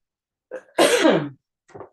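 A woman coughs in one short harsh burst, preceded by a faint breathy catch and followed by a softer trailing cough, close and clear with no talk.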